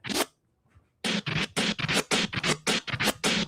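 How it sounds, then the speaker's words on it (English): DJ close fader crab scratch cut on a snare sample, played on the reverse stroke: a brief opening hit, a pause, then a rapid run of about ten choppy, evenly spaced snare stabs, loud and close with no talking. "that's a close fader crab, that like I just showed you, and I'm doing it on the reverse stroke"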